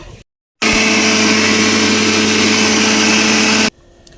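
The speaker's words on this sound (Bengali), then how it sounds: "এসে ব্লেন্ডারে চাল ভাঙাই নিতেছে" An electric blender grinds rice for pitha, starting abruptly and running as a loud, steady, high-pitched whirring roar for about three seconds before cutting off.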